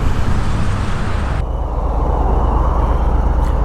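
A 2021 Harley-Davidson Street Bob 114 motorcycle being ridden, a steady, loud, dense roar of engine and road rumble throughout, with no talking.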